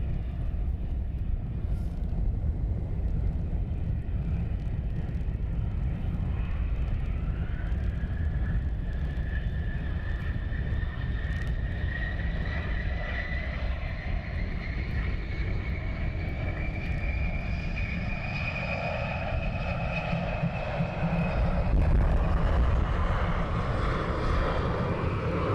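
Airliner departing London Luton Airport in a strong crosswind, a continuous loud jet engine roar with a slowly rising whine that holds steady and swells slightly toward the end, heard from outside at moderate distance.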